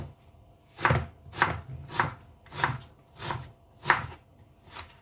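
An onion is sliced with a knife on a cutting board for a chicken stock, about seven crisp, evenly spaced chops sounding close and clear with no talk.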